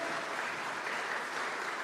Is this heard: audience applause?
yes